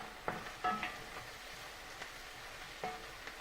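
Garlic green beans sizzle steadily in a pan as they caramelize, with a soft continuous frying hiss broken by a few clinks and stirring scrapes.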